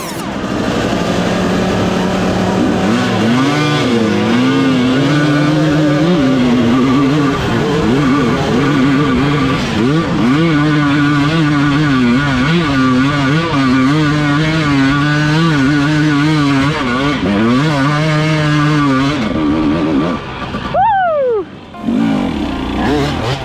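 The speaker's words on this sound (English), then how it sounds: "Sick bike. Third gear, flipping the clutch, wide open the whole way." A Husqvarna motorcycle climbs a hill in third gear at full throttle, its engine screaming loud and close with a sustained wavering roar, briefly dropping off near the end.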